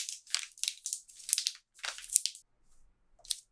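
Crinkly plastic packaging from a keto snack subscription box being opened, giving a run of close, loud crunching and crumpling bursts, a brief pause, then one more crinkle.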